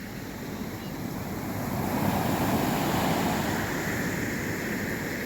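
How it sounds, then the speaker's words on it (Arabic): Sea waves washing onto a shore, a steady broadband wash that swells slightly midway and stays close and fairly loud, mixed with wind buffeting the microphone. "اسمع البحر كيدير، اسمع"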